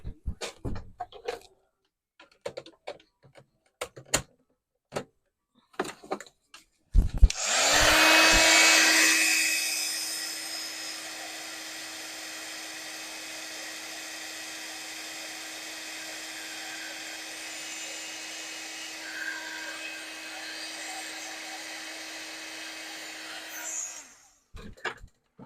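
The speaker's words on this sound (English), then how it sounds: "I'm going to heat emboss that." A heat embossing tool blows hot air over embossed card, a steady loud whirring drone that starts abruptly, runs continuously for most of the stretch alone, then cuts off, with brief clicks and handling noises before and after.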